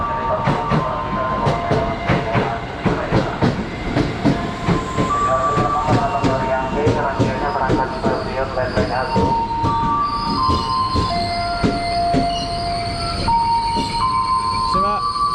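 A commuter train at Duren Kalibata station rolls past with rhythmic clattering wheels, then squealing brakes and tonal whines as it slows, loud and close with faint voices in the background.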